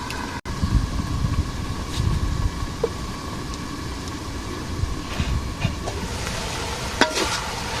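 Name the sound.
water spinach greens frying in a pan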